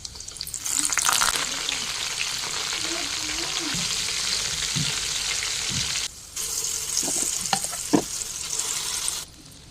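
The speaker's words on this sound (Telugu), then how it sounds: "తాలింపుకి వేరుశనగ నూనె వేసుకొని ఆవాలు, జీలకర్ర, వెల్లుల్లి, ఎండుమిర్చి, కరివేపాకు, ఇంగువ మొత్తం వేసుకొని తాలింపు పెట్టుకోవాలి." Mustard seeds, cumin, garlic, dried red chillies, curry leaves and asafoetida sizzle in hot peanut oil for a red chilli pickle tempering, a loud continuous crackling fry with spoon scrapes and stirring, close up.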